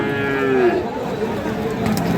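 At a cattle market for Sahiwal-type bulls, a Sahiwal-Gir cross cow lets out one drawn-out low moo near the start, then fades into general market murmur.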